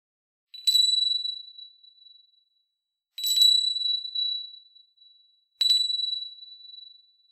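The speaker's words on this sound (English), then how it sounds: "shifting the conversation over with the sound of the bells" Three clear, bright bell strikes spaced a few seconds apart, each ringing out and slowly decaying in an otherwise silent space.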